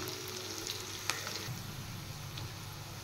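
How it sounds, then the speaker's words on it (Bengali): Coarsely chopped onions fry in a pan, a faint, even crackling sizzle with a few light clicks of the spatula. "পেঁয়াজ ফ্রাই হয়ে গেছে,"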